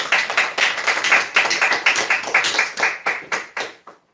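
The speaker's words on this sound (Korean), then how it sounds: "하나님께 영광의 박수 올리고 시작하겠습니다." A Sunday church congregation gives a round of applause, with individual claps rapid and distinct near the listener, gradually thinning into a few last claps before silence.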